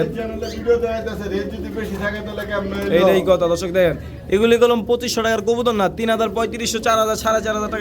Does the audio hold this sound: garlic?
no